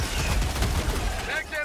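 Dense video game gunfire, a continuous rattle of rapid shots with low rumbling booms, filling the whole short moment with a voice faintly mixed in.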